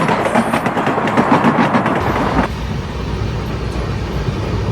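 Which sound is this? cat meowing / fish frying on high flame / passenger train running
passenger train running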